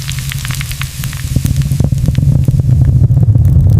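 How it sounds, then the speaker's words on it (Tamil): Mustard seeds, urad dal and curry leaves hit hot cold-pressed coconut oil, bursting into a loud hissing sizzle with scattered sharp pops and crackles that grow denser toward the end, close up, no talk. "கடுகு, உளுந்து, கறிவேப்பிலை போட்டு தாளிக்கணும்."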